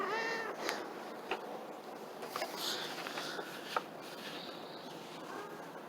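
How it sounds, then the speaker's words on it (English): A pet cat gives a few faint meows indoors, short and high, spread over several seconds with quiet clicks and rustles between them. "that is my cat, Baby."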